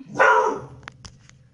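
Dog barking once nearby indoors, a single loud bark followed by a few faint, brief yips, with no talking.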